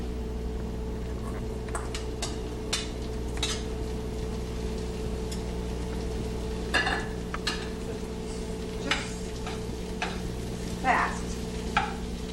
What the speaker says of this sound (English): I'm gonna throw my mushrooms in it, saute it for a couple of minutes